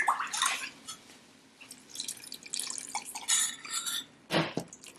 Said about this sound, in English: Now we're going to add in our broth.